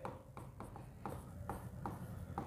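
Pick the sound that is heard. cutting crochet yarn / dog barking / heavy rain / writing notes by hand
writing notes by hand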